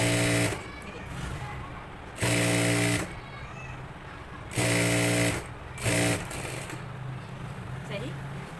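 Sewing machine stitching a fabric strip for a neckline, several bursts of fast mechanical whirring at close range, separated by pauses in which someone talks.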